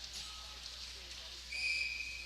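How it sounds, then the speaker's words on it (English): A referee's whistle at a lacrosse game, one short thin blast with a fainter upper tone, heard at a distance over crowd ambience and commentary. "that took a long time for that official to figure out how to blow that whistle"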